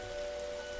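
Rain falls in the Darkside Detective video game, a very brief steady patter under a faint tonal hum, fairly quiet and continuous.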